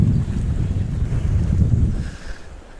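Strong hurricane wind buffeting the microphone in heavy low gusts while fishing by murky water, easing off toward the end.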